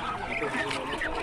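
Muscovy ducks on a farm, a dense flock calling in a continuous noisy chorus of honks and quacks close by, with voices mixed in throughout.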